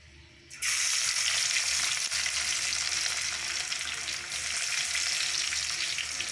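Garlic drops into hot oil and bursts into a loud, bright sizzle that holds steady for several seconds, frying in a pan for a spicy Maharashtrian fish dish.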